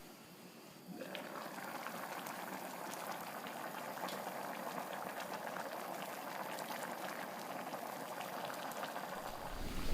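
A pot of Jamaican pumpkin rice comes to a rolling boil, giving a steady, close bubbling and seething hiss that holds at an even level throughout, with no talking.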